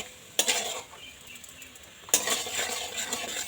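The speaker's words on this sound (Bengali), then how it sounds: "চিনিটা কিন্তু খুব ভালো করে গলিয়ে নিতে লাগবে নাড়িয়ে চাড়িয়ে" Sugar and water are stirred in a pan to melt the sugar for badam chikki, with two scraping strokes of a utensil against the metal and a soft, steady background.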